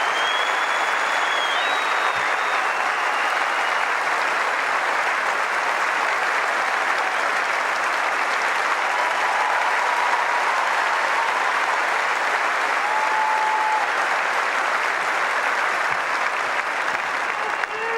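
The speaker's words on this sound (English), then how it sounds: "I know you'll give her a huge round of applause" A stadium crowd applauds at the 2004 Australian Open women's singles trophy ceremony for runner-up Kim Clijsters. The clapping is a loud, sustained roar that never lets up, with faint whistles and cheers threaded through it.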